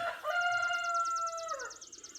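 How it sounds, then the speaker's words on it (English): A rooster gives a single clear cock-a-doodle-doo crow at moderate distance, rising and then held before trailing off, with no talking over it. "The rooster's out. The rooster is out."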